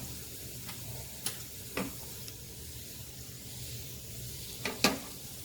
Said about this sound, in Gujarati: લસણને થોડું સરસ એવું ગોલ્ડન થવા દઈશું વઘારમાં.